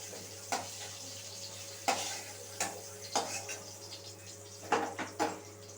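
Cauliflower florets sizzle softly in oil in a pan, with a steady low fry broken by several sharp scraping stirs of a utensil against the pan at irregular intervals, close by and fairly quiet.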